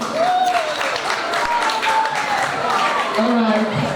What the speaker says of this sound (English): For the speakers, a sound clap, another sound clap, any chair clap.